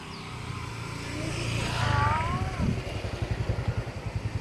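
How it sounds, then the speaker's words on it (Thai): A motorcycle engine rises as it approaches and passes nearby along a canal, then settles into a rough, pulsing idle-like drone. "รถมอเตอร์ไซค์"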